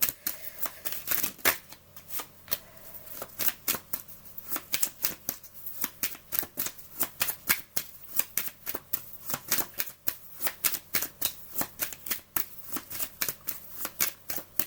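Oracle cards shuffled by hand for a card reading, a long run of rapid, crisp riffling flutters and slaps repeating at an uneven rhythm, close and fairly loud with no talk over them.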